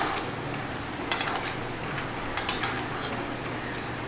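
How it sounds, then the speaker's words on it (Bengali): Cooked moong dal being mashed with a wooden ghutni in a pot for a Bengali fish-head dal, giving soft scraping and a few light clinks against the vessel over steady low background noise. "তারপর আমি এই ঘুটনি দিয়ে ঘুটে দিব।"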